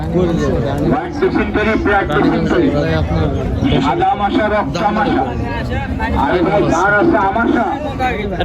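Dense crowd hubbub of many overlapping voices at an outdoor cattle market in Panchbibi, Bangladesh, steady and loud throughout with no quiet gaps.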